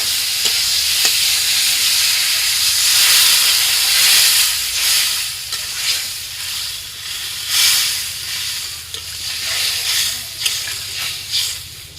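Water poured into a sizzling bottle gourd curry for a fish curry bursts into loud steaming hiss and spitting, with sharp crackling pops and stirring scrapes that ebb and surge over twelve seconds, close by and without speech.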